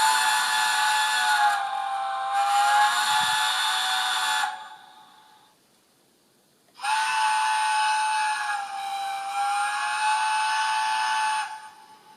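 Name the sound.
long chime from model train TTS sound decoder via iPhone speaker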